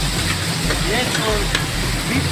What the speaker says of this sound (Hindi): ये बीफ का कढ़ाई है।